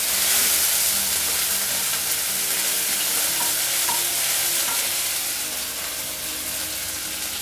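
Panch phoron, bay leaf, ginger paste and green chili paste frying in hot oil for a fish curry with bottle gourd shoots and potato: a loud, continuous sizzle with stirring, close up and without speech.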